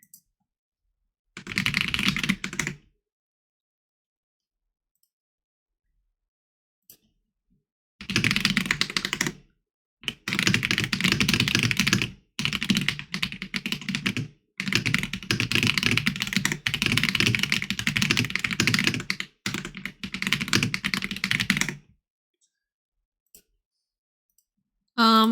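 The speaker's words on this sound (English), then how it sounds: "you're occasionally gonna hear me furiously typing" Fast, furious typing on a computer keyboard comes in dense close bursts of rapid clicks, separated by stretches of silence.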